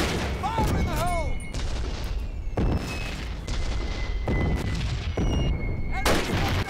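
A grenade blast and gunfire in Call of Duty: United Offensive during a multiplayer base assault on the Italy map, with repeated heavy booms and shots spread across the scene and brief whistling sounds overhead.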